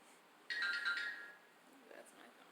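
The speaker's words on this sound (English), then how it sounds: "That's my phone." A mobile phone ringtone chimes once, a short bright melodic burst that rises suddenly and fades over about a second, fairly close against a quiet room.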